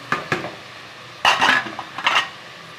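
A metal spoon stirring mint into tomato masala in a cooking pan for mutton biryani: a few close scraping and clinking strokes in short bursts against the pan.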